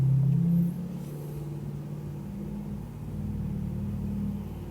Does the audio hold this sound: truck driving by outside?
yes